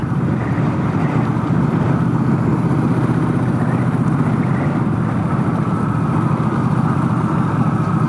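A fuel-injected motorcycle that had sat unused for a long time idles steadily on a thick seafoam fuel mixture, a close, continuous low engine drone with a faint rapid pulse and some wind noise, no talking.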